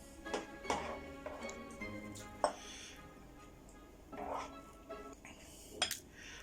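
Palak paneer being spooned from a pan into a bowl, with intermittent metallic clinks and scrapes of a spoon against cookware, close by and fairly quiet, separated by short pauses.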